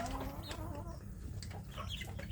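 Free-range village chickens in a grow-out pen clucking softly and close by, a few short cackles and chirps over a low, muffled background.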